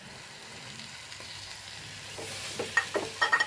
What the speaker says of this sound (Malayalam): ഇനി ഇതിലേക്ക് തക്കാളിയാണ് ഇട്ട് കൊടുക്കുന്നത്.